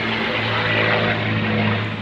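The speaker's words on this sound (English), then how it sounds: "Apologize for the noise. We've got the air show going on here today." Propeller airplanes fly over at an air show, a loud steady engine drone with a constant low hum, filling the whole stretch without talk.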